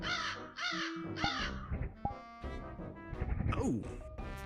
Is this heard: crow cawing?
yes